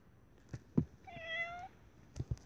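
A cat meows once in the BedWars video game: a single drawn-out, rising-and-falling meow at moderate level, framed by a few soft thumps and clicks.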